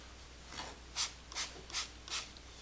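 Oil being rubbed by hand into freshly sanded carved wood, the grain showing after 80 grit; four or five soft, breathy swishing strokes, close and fairly quiet, evenly spaced with no talking.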